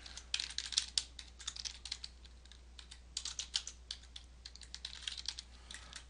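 Fingers tap steadily on a computer keyboard, a close run of quick, light clicking keystrokes that comes in bursts with brief pauses between them and no voices present.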